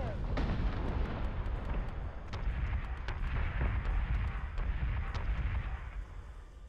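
Missile impacts in the space strategy game BSG Deadlock, a faint, distant run of repeated thuds and crackling booms over a low rumbling bed, with a little talk in the mix.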